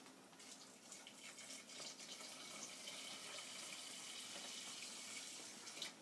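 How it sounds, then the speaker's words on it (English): Cooking water is poured from a container into a pot of rice. A faint, steady trickle and splash of liquid continues for several seconds, close up and quiet, with no talking. "Put the cooking water in here."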